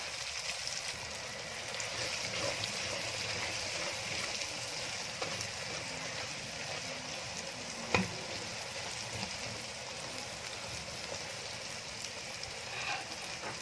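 Mashed potato fries in a pan with garlic ginger paste and onion, giving a steady soft sizzle with occasional stirring scrapes and one sharp clink, fairly quiet and even with no talk.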